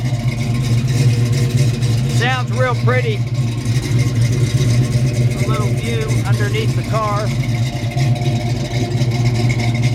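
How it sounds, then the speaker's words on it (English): A black 1968 Pontiac GTO with a 6.5-liter V8 and Flowmaster exhaust idles up close, a loud, steady low burble that runs the whole time while someone talks over it. "It's got Flowmaster exhaust. You can hear the exhaust."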